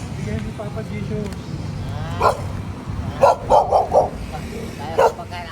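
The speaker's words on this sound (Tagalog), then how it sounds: "Madami mong aso, kuya." Several dogs barking in short bursts, a cluster of sharp yaps followed by a single later bark, moderately close over a steady background hum and murmuring talk.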